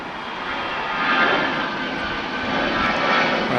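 An American passenger jet climbing away after takeoff at Los Angeles International Airport gives a steady broadband engine roar that swells slightly and holds throughout, heard from a distance with no voices.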